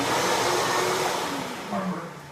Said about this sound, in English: Turn the vacuum on for a second.